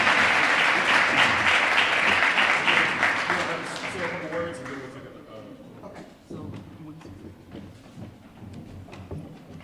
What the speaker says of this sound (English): So can we give them another round of applause?